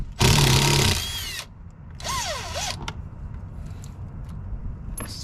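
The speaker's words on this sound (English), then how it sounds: "It's much faster when you have an impact driver." Impact driver removing a 5/16 bolt from a 2019 Ford Expedition XLT, two close loud bursts of whirring hammering, the first about a second long and the second shorter, followed by quiet shop ambience.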